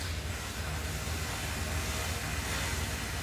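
Neighbours pressure cleaning a veranda nearby, a steady broadband hiss and low rumble that runs unbroken at even loudness with no voices.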